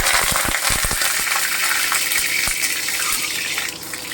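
Water hits hot mustard oil in a wok, spluttering loudly and continuously with sharp crackling pops and a few low thumps, close and without talk.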